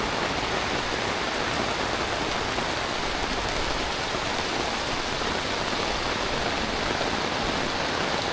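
Heavy, continuous downpour during a flood in Sumatra, Indonesia: a dense, steady roar of rain with no breaks and no voices, loud and even throughout.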